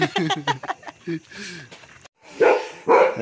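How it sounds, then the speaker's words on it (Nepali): Dogs barking outdoors late at night on a cold evening, several sharp barks in bursts close by, with people talking over and between them. "यी कुकुरहरू माथि हेरेर भुकिरहेछन्"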